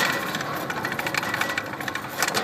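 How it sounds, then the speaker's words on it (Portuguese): A windmill-driven water pump runs with a steady mechanical clatter and creak, its rhythmic pulses continuous and fairly close, with no voices over it; the pump's chain is dry and its piston dirty. "E a bomba tá funcionando aí"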